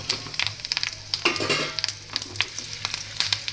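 Leftover millet rotla balls and white sesame seeds fry in a pan, crackling in a steady, close sizzle with quick popping bursts throughout.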